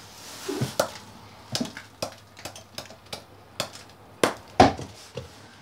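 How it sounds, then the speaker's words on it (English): Hammer blows strike a big icicle, about a dozen sharp, cracking knocks at an uneven pace, close and distinct, with the last few hits louder. "Attempting to hammer it"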